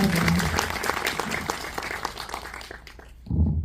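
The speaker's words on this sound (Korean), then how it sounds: "박수 부탁드리겠습니다" An audience at an indie film talk event for the Korean film Will You Please Stop, Please? breaks into lively applause that thins out and fades, after which a voice starts speaking.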